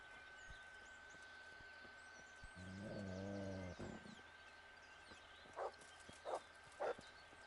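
A dog in the medieval role-playing game Kingdom Come: Deliverance growls low, then gives three short, faint barks spaced apart against a quiet ambient background.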